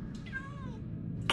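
Cats meowing in the Minecraft Story Mode video game, several rising and falling mews layered over a low background hum, with a brief burst of noise at the end.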